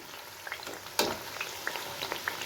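Mathri deep frying in oil over a low flame, giving a soft continuous bubbling fizz with small pops and one sharper clatter near the middle, faint and close.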